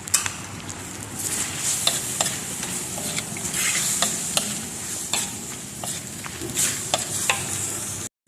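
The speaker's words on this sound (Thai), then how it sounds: "เราจะเอาผัก มะเขือเทศนะคะใส่ไปเลยค่ะ แล้วก็หอมหัวใหญ่ค่ะ พริกนะคะใส่ไปเลยค่ะ" Tomato, onion and chili are stir-fried with cooked squid in a hot pan, producing a continuous sizzle with repeated scraping and clinking of a utensil against the pan, close and fairly loud, with no speech.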